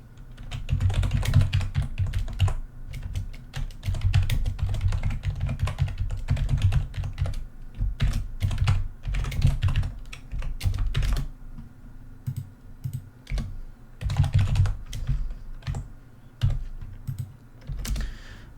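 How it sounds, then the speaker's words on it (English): Steady typing on a computer keyboard, rapid clicks in bursts with brief pauses, close and continuous throughout. "Typing and coding sounds begin now."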